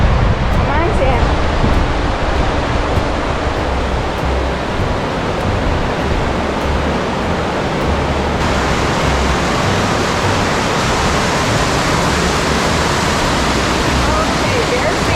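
Water rushes steadily through Crazy Woman Canyon, a loud, continuous broadband roar that fills the scene without pause from start to finish.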